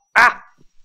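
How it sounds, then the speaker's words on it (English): A pig in the Minecraft video game squeals once, sharp and close, as it is killed. A couple of faint soft thuds follow. "Oh yes, I love murdering small pigs."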